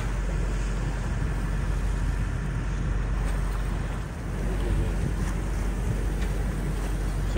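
A Whitby 42 ketch sails through a bay mouth in steady wind, its hull and water noise forming a constant loud rush, with a brief dip partway through.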